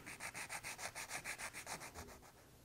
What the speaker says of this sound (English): Take a few minutes to eliminate that seam with a sanding stick.